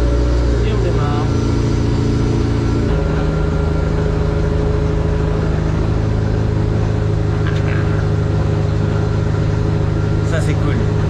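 A Mini car's engine cranks and catches after the clutch is pressed, then settles into a loud, steady idle close by, its low drone filling the whole stretch.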